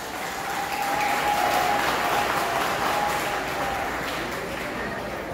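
Sustained applause from a congregation at a French-language Christian wedding ceremony, steady and full for several seconds right after the couple is declared husband and wife, with a thin tone running faintly underneath.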